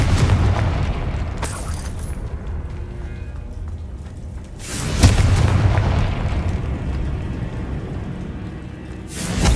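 Confringo blasting spell from the Hogwarts Legacy video game, loud booming explosive bursts with rumbling, crackling tails, one heavy blast near the middle and another at the end over dense game ambience.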